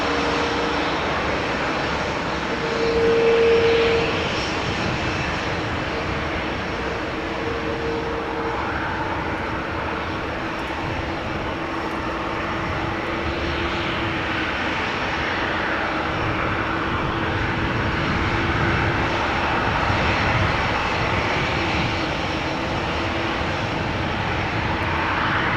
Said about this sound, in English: Seven three seven to Munich, 737-700, the PH BGI.